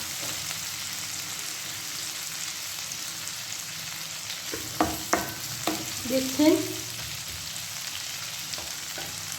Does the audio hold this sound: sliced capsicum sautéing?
yes